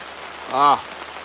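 Rain falls steadily outdoors at a fishing spot, a soft continuous hiss across the whole clip, with a brief voiced sound rising over it in the middle.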